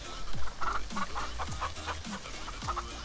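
Chickens cluck in a farm video game, a run of short repeated clucks and squawks at a brisk rhythm, fairly loud and close with no talk over them.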